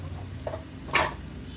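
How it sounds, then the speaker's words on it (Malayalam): Black pepper powder and spices sizzle in a hot pan for paneer, with a single quick spatula stir scraping through near the end, close and soft, without speech. "പൊടിയിട്ട് കഴിഞ്ഞിട്ട് ഇളക്കണം അല്ലേ അതൊന്ന് കരിഞ്ഞു പോകും"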